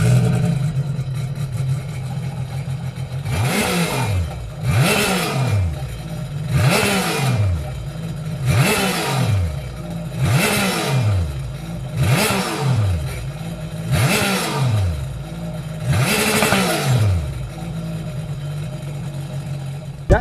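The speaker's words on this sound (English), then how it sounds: "now we're going to start her up so you can hear that awesome stereo exhaust tone of the dual" 2021 Sea-Doo RXP-X 300 jet ski fitted with a Riva Racing dual rear exhaust kit, its engine revved in eight sharp, loud bursts over a steady rumbling idle.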